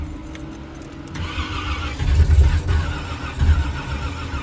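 A Box Chevy car's engine cranks, catches and revs in short bursts with a deep rumble, close by and without talk, after a brief jingle of keys.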